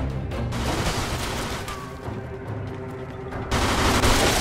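Dense gunfire from a shootout in the video game Mafia 2, with overlapping rapid shots forming a continuous loud barrage that swells again near the end.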